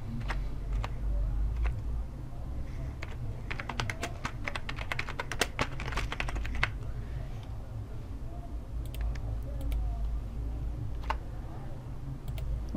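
Typing on a computer keyboard: a quiet stream of light key clicks, busiest in the middle and thinning out later, over a low steady hum.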